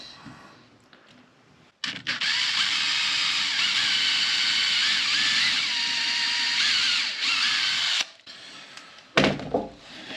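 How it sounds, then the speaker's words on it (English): A power drill pre-drilling screw holes whirs loudly for about six seconds, pitch wavering as it bores, then stops; a short burst follows after a pause. "I'm going to go ahead and pre-drill."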